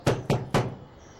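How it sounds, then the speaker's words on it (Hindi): Three firm knocks on a door in quick succession, close and loud, with a short ringing decay after the last, in a domestic scene from a drama. "पहले कभी तूने दस्तक नहीं दी ना"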